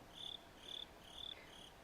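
Crickets chirp from a streaming sound pad, producing three or four evenly spaced, shrill trills against a faint background hiss.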